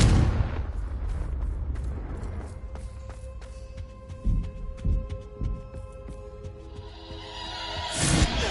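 Blasts from the Confringo fire spell in Hogwarts Legacy go off in a rapid cluster at first, then come as a few separate booming hits over a sustained magical hum, with a final loud burst near the end.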